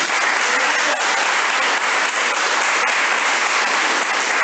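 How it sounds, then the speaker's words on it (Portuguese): A church congregation claps steadily for several seconds, a dense, continuous wash of applause from a large crowd filling the room, with no break and no speech over it. "Você pode dar uma salva de palmas à Virgem Maria?"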